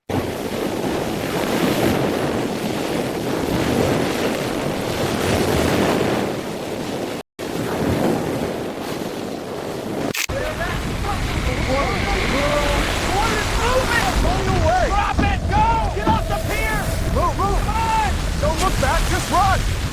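Rushing floodwater slamming into a bridge's supports, a loud, continuous roaring surge with heavy wind buffeting the microphone, later joined by raised voices.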